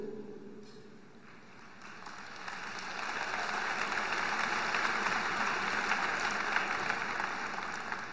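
Audience applause at the AIPAC 2010 conference, a dense, steady wash of clapping from a large crowd that swells after the first few seconds and holds loud and sustained to the end.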